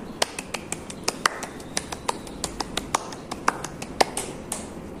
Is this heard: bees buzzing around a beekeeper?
no